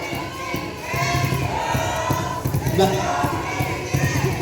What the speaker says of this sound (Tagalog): Ibalik naman ang sigawan para kay Sir Gil Tenorio